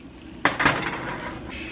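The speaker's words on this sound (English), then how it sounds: "that sizzling that you hear is the water cooking off" Water sizzles off in a pot while caramel for salted caramel bacon ice cream is being made, with two sharp clanks of cookware followed by a lingering soft hiss and bubbling.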